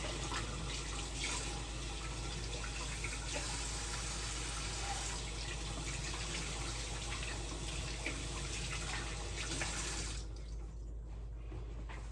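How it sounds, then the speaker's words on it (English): A tap runs steadily as coffee grounds are rinsed out of a cold-brew strainer, a continuous splashing rush over a low hum that cuts off near the end with a few drips, with no one talking. "And then I'm going to rinse the grounds out of it."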